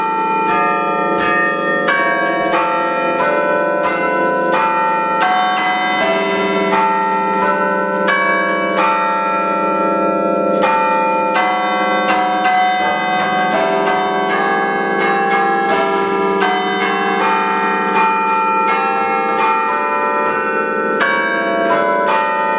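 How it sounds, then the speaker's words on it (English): The bells of St. Patrick's Church ring in a continuous sequence of clear, sustained pitched strikes, layered and overlapping in a steady melodic pattern, played by a bell ringer, loud and alone with no voices. "Have you ever seen church bells play before?"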